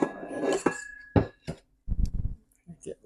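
Kitchen utensils clink and rattle as someone rummages for a spoon while cooking a cheesecake. Several sharp, close metallic knocks and jangles come in bursts, with some voice sounds around them.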